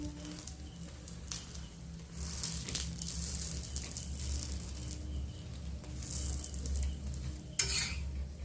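Moong dal puris deep-frying in hot oil, a steady crackling sizzle with occasional louder bursts and a low hum underneath, close and continuous with no talk.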